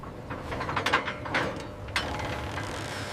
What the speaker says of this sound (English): Full power on the winch!